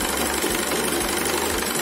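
A sewing machine stitches the seam of a dhoti salwar, giving a steady, continuous motor hum that pulses faintly about every half second, heard alone without talk.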